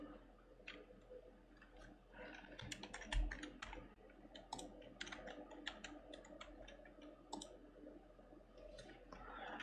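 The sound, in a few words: typing a password on a computer keyboard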